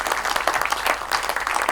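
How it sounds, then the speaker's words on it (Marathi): An audience at a Marathi one-act play competition prize distribution applauds the winners, sustained dense clapping from many hands filling the room evenly. "आता आपण सगळ्या विजेत्यांसाठी एकदा जोरदार टाळ्या वाजवूया"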